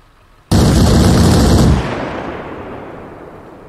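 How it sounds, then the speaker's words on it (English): In ARMA Reforger, a vehicle-mounted gun fires a sudden, loud sustained burst of rapid shots that cuts off after about a second, then a long echoing rumble fades away, with no voices. "Get on the gun and destroy that one directly behind us"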